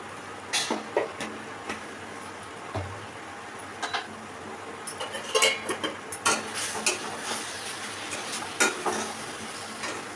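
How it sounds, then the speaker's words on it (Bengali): Parboiled potatoes are stir-fried with spices and kasuri methi in a pan, with soft sizzling under repeated scraping and clinking strokes of a spatula that come in irregular bursts, close by and with no voices. "মশলার সঙ্গে আলুগুলো কষানো হয়ে গেছে"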